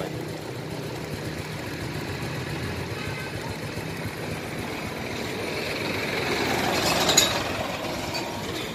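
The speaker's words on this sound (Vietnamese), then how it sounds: "Qua đang cho nổ máy luôn nha mọi người." A 1999 Honda Wave Thai 110 motorcycle idles with a steady, even engine rumble. Near the end a brief rise in loudness marks a slight throttle blip, and no one speaks.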